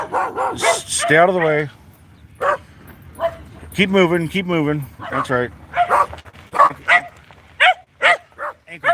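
Small dogs bark and yip repeatedly in short bursts outdoors at a fire scene, close and loud, interleaved with someone talking over them.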